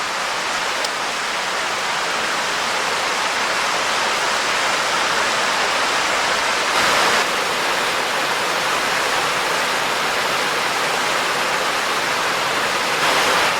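Water pours over a small dam on a creek, a constant, loud broadband rush that stays even throughout with no voices.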